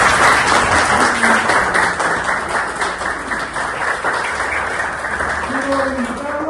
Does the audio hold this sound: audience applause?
yes